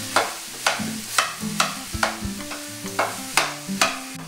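A spoon scrapes and stirs through beef and pork mince in a pan, giving about ten regular close scraping strokes over a light sizzle, with low clunks of the utensil against the pan.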